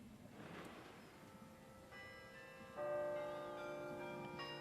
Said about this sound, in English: We now hear the City Hall's famous bells sounding out across the city